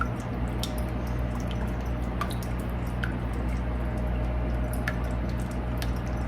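A spatula folding thick ice cream pie filling in a bowl, giving soft wet squishes and a few light ticks over a steady background hum, close and quiet.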